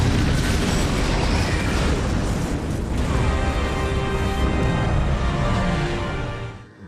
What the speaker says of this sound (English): Rainbow explosions.